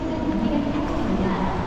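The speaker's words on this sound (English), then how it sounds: "this is one of the nicest train stations I've ever been to for sure" Busy, huge train station in Busan, South Korea, with a steady low rumble of rail activity and crowd murmur from many people moving around, a continuous indoor hum.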